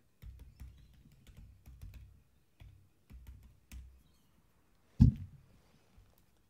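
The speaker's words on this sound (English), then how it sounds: "typing is hard" Bursts of quick, soft key taps on a computer keyboard, close and quiet in a still room, with short pauses between runs and one louder knock near the end.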